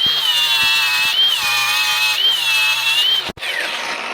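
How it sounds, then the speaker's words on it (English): A cordless angle grinder whines loudly and continuously at close range, its pitch wavering slightly as it grinds the heads off metal rivets, with brief clicks and a short cut-out near the end. "Safety goggles, battery grinder, you can't beat it."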